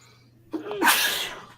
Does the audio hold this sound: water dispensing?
no